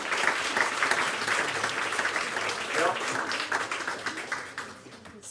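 Audience applause after a card trick at an open-stage show, a moderate burst of clapping that gradually fades, with a brief voice near the start.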